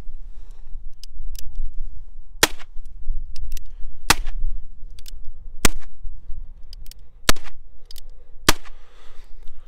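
Percussion caps snap one after another on the empty chambers of a Walker black-powder revolver fired into dirt outdoors: six sharp, loud cracks spaced about a second or more apart over a quiet low rumble.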